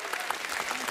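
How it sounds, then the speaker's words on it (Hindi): Steady applause from an audience, loud and continuous with dense clapping throughout the short stretch. "गजराज राव जी के लिए जोरदार तालियां हो"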